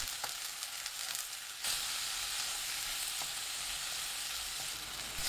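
Onions stir-fried over high heat with curry powder give a steady, bright sizzle that swells louder partway through, with an occasional light scrape of stirring, close but soft.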